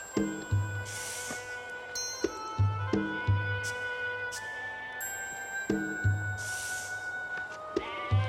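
Sheep bleat repeatedly at a sacrificial offering setting, several loud wavering cries spaced through the clip over a busy background of low hum and scattered knocks.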